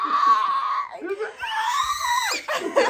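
A one-year-old baby girl lets out high, drawn-out screaming squeals at close range on the morning of her first birthday, with an adult voice talking between them.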